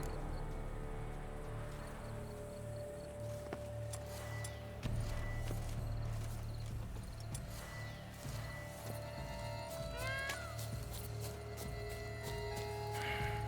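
A horse in The Witcher 3 video game, with soft clip-clop hoofbeats and faint snorting over a low, steady game ambience and music bed, fairly quiet and with no talking.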